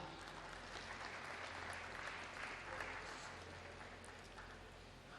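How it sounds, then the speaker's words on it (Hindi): Audience applause at a spiritual discourse event as a family is invited onto the stage, continuous broad clapping with a low steady hum underneath, heard from a distance. "मैं चाहूँगा कि पूरा परिवार मंच पर आए और एक बार जोरदार तालियों के साथ"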